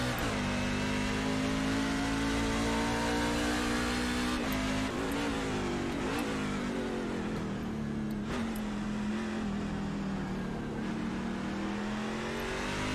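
NASCAR stock car engine in the iRacing sim at Hockenheim, a steady loud drone with brief dips and rises as it downshifts, running alone throughout.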